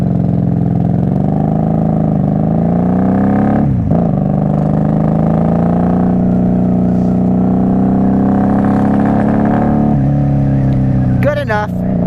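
A 1994 Honda Magna VF750C motorcycle engine runs at a steady, loud idle up close, with slight wavers in pitch and a small blip near the end.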